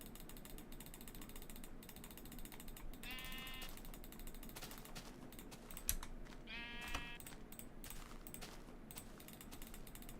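Sheep in the Minecraft video game bleat twice, short buzzy calls standing out over a steady bed of clicking, ratcheting game and keyboard noise, fairly faint overall.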